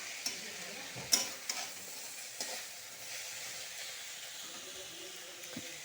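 Bottle gourd leaves sizzle in a pan, a quiet steady hiss of frying broken by a few sharp scrapes and clinks of stirring, faint and unaccompanied by speech.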